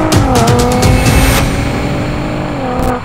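Launch start of a Porsche Panamera 4S or Audi RS5, a loud engine roaring up through rising revs with tire noise, close and continuous for about three seconds, no talk.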